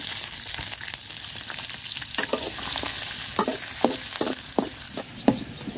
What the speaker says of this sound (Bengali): রসুন আর পেঁয়াজটা আমি লাল লাল করে ভাজা নিছি